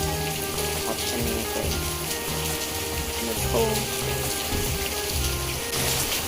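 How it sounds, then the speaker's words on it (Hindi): Heavy rain pours steadily during a stop on a road trip, a dense wash of noise under a musical drone, while someone speaks briefly over it. "बहुत ज़ोरदार बारिश हो रही है"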